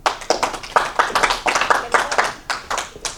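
A small group claps in a loose, uneven rhythm, distinct close hand claps bunched together in quick bursts, fairly loud and without talk.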